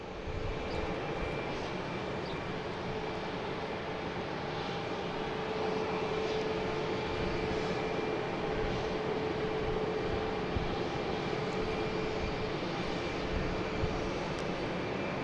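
An Air France Airbus A350-900 jet at Boston Logan Airport, bound for Paris, holds a steady, moderately distant engine roar with a faint whine throughout, unbroken by talk.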